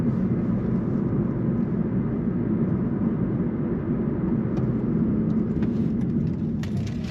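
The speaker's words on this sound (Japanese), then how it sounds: "さらにロードノイズはガーゴーとダイレクトに入ってくるようになり" Road noise inside a 2009 third-generation Toyota Prius S ZVW30 2WD while driving: a steady, loud low roar and rumble throughout, with a few faint ticks near the end.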